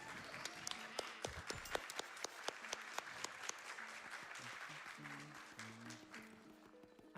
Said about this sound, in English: Can we get a clap for this, by the way?